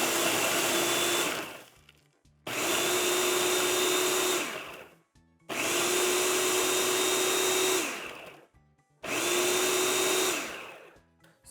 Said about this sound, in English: We're going to add 25 Oreos into the basin of a food processor. We're just going to pulse these until we have nice fine crumbs.